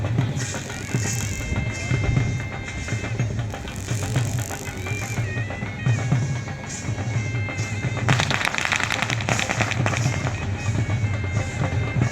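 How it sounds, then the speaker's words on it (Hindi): Firecrackers go off at a rural fair, Mela Tahlianwala, to make bulls run: rapid crackling pops rattle over a busy crowd background, building to a dense burst of cracks near the end. "ये गोले पटाखे छोड़ते हैं ताकि इससे बैल और भागते हैं"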